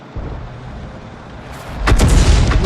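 A tank gun shot in World of Tanks: a low rumbling background gives way to a loud, booming cannon blast that rolls out near the end.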